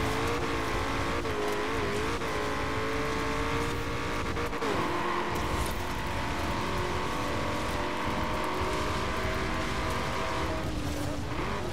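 Hoonigan Ford Bronco in the racing game Forza Horizon 4, its engine roaring loudly and continuously as it slides through a corner, with shifting revs and a faint tire squeal.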